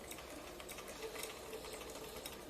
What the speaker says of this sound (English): lift up my needle, my presser foot, sorry, and continue sewing